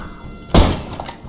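A grenade goes off in the shooter video game Survarium, a single sharp, heavy thump that rises suddenly and fades over about a second against low background noise.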